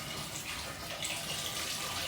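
Cold tap water runs over boiled Jamaican saltfish in a kitchen, a steady close splashing hiss that continues without any talk.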